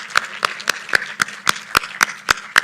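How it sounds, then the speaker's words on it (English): Evenly spaced claps, about four per second, ring out steadily after the Dr. L M Singhvi Memorial Lecture. They sound like synchronized audience applause, close and clear. "A single round of applause does not do justice to the lecture we've just witnessed."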